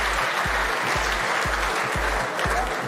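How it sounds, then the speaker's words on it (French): Arena crowd applauds both robotics teams at the end of a French robotics cup final match, steady loud clapping over a regular low thumping beat in the background. "On applaudit très fort les deux équipes Focus Robotique contre Arig"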